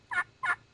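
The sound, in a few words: yelp on a friction turkey call, striker drawn across surface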